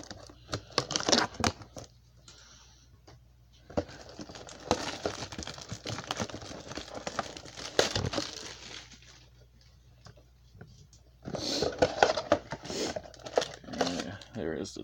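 Scissors cut open the plastic wrapper on a 2019 Topps Gallery trading card box, giving close, crinkly snips and tearing rustles in irregular bursts with short quiet gaps.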